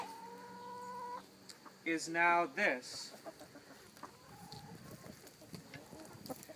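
Backyard compost-run chickens clucking and squawking in a short loud burst of overlapping calls, with quieter clucks scattered around it and someone talking over them.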